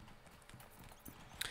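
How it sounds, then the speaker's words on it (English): Horse hooves clip-clop in a quick, steady rhythm as an auto-travel horse trots along in the game Yondershire, faint and close, with no speaking. "we're going to spend some Shire bucks to take the auto horse"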